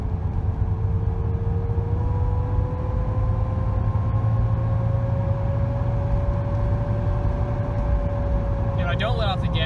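A Jeep XJ with a slipping AW4 automatic transmission accelerates. The engine drones steadily and its pitch climbs slowly with no clean shift point. Heard from inside the cabin, loud and continuous, with a faint chirp near the end.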